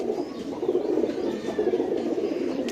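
Pigeons in a loft coo steadily in a close, continuous low murmur, with faint scattered chirps above it and no voices.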